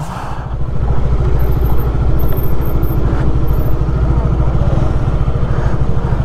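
A motorcycle engine drones steadily while riding on a highway, a continuous low rumble with wind noise, moderately loud throughout.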